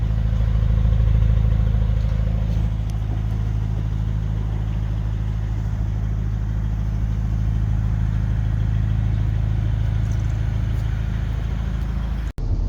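A pickup truck cruising on the highway while towing a BMW S1000RR superbike on a trailer, a steady loud low engine and road rumble with no talking, ending in a brief sharp click.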